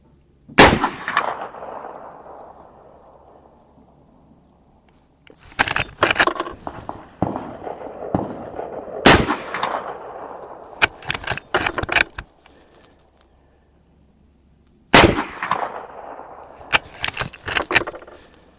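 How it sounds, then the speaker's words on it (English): A suppressed 45-70 rifle fires at a large steel target downrange. Several sharp shots ring out at intervals, each followed by decaying ringing and metallic clatter that sounds like brass or handling noise. "I got a couple of shots I'm going to try to make on the big steel downrange"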